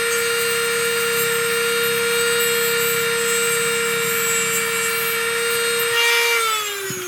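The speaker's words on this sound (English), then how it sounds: "As long as you're careful when you're using the Dremel, there's a lot of things you can do with it." A Dremel rotary tool works on a plastic HO scale model wagon, a steady high whine running loud and close for several seconds before the motor pitch drops and winds down near the end.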